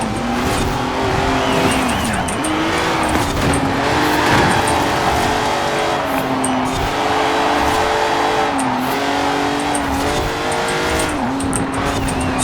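A Jaguar XJ220 races in Forza Horizon 4, its engine droning steadily and rising and falling in pitch through gear changes, with tires squealing as it fights for grip, loud and continuous with no talk.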